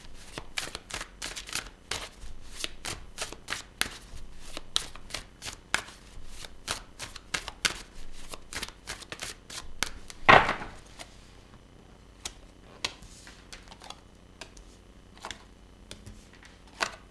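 Tarot cards are shuffled in rapid, close riffling bursts for about ten seconds, with one sharp snap near the end, followed by quieter scattered card handling.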